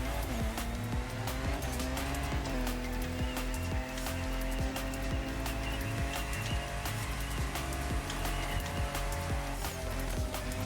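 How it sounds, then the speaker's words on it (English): An Audi e-tron race car in The Crew Motorfest racing game holds a steady, loud electric-motor whine with a rising tonal pitch, accompanied by tire noise and occasional scrapes. "I hear that damn Audi e-tron"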